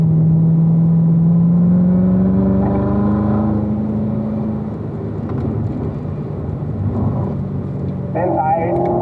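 A car on a race track powering out of a turn, the engine droning loud and close with a steadily rising pitch as it accelerates, while a driving coach talks over it.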